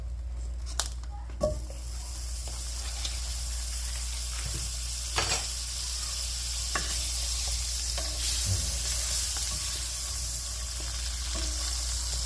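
Butter melts and sizzles in a hot pan as the start of a honey garlic sauce for pork, giving a steady close frying hiss with occasional utensil taps and scrapes.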